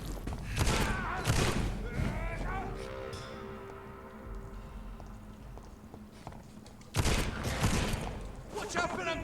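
Gunfire in the video game Vampyr, a dense burst of shots at the start and another loud volley near the end, with game voices shouting amid the shooting and a quieter stretch of ambience between.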